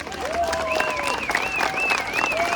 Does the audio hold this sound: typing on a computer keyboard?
no